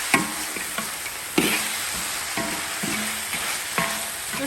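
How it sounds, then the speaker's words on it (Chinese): Chicken stir-fried in a wok with Sichuan pepper and dark soy sauce for a braised free-range chicken dish, a close continuous sizzle punctuated by regular scraping knocks of a spatula against the wok. "这炒一下炒久一点才香啊。"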